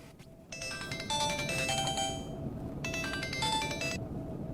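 A telephone ringing on a speakerphone call, its electronic ringtone repeating in two long trilling bursts over a steady low background hum, with no talking.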